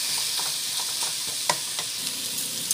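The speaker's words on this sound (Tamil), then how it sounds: "நல்லா வந்து வதக்கிக்கோங்க" Onion with spice powders sautés in a pan, a steady close sizzle with light, repeated stirring scrapes and an occasional sharper tap of the spoon, no voices.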